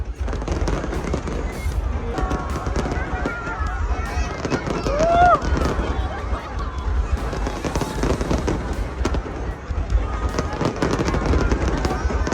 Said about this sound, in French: Feu d'artifice impressionnant au festival de la mi-automne à Yishan en Chine, le 17 septembre.